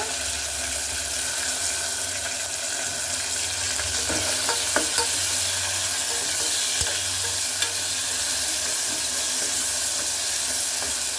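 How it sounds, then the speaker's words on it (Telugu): Ingredients for restaurant-style tomato rice frying and being stirred in a pan, a steady broadband sizzle with scattered scraping clicks from the spoon, close and continuous with no talking. "కొద్దిసేపు వేగనిద్దామండి దీన్ని ఇలాగే"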